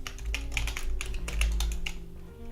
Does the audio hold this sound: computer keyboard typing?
yes